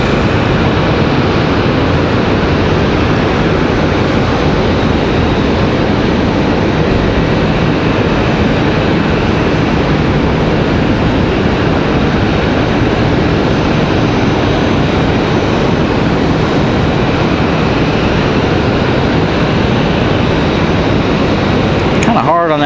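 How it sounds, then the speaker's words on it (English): An American airliner touches down on the runway at Raleigh-Durham International, a loud, continuous broadband engine roar and rumble held steady throughout, with a voice talking over it. "So American touching down now."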